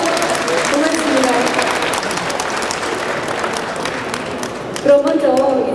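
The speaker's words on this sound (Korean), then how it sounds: "모두를 위해서 여러분 환영의 박수 좀 부탁드릴까요?" An audience at the 2023 Electric Power Tech Korea opening ceremony gives sustained, dense welcoming applause from a large hall crowd. A voice speaks over it throughout.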